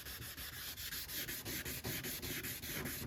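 Hand sanding of a car body panel on a QCRC Mega Cummins truck with 600 grit paper wrapped around a block, steady rhythmic back-and-forth rasping strokes, close and fairly quiet, no voices.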